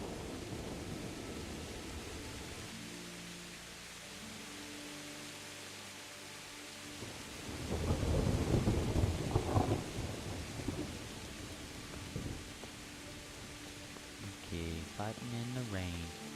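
Rain and thunder in the video game Kingdom Come, a steady wash of rainfall with a deeper rumbling swell midway, someone talking over the storm at times.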